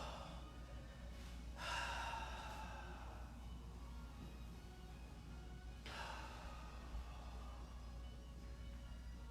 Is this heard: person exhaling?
yes